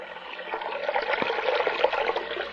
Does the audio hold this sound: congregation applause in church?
no